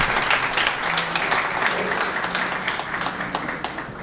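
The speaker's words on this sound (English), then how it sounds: "Give him a round of applause." Audience at a launch ceremony in New York City gives a round of applause, with many hands clapping in a lively, uneven patter and a few louder individual claps standing out.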